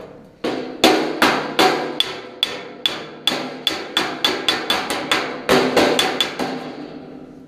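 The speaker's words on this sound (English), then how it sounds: "you don't need to wail on your hammers. Just gently tap it and" Hammer on the steel fender of a 1966 Ford Galaxie 500 convertible during restoration: a steady run of about twenty light, ringing metallic taps, close and evenly spaced, with no talking.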